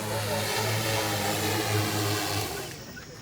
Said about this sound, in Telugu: ఇంకో అక్కడ 3వ డ్రోన్ కూడా మళ్ళీ వచ్చి ఆగింది.